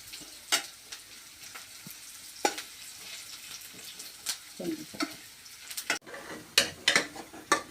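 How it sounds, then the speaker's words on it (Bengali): Onion and green chilli frying in oil in a pan for a lentil and greens dish, a soft sizzle under repeated sharp scrapes and clinks of a spatula stirring, close and uneven in rhythm. "এই পেঁয়াজ মরিচ লাল হওয়ার আগ পর্যন্ত আমি নাড়াচাড়া করে নিব।"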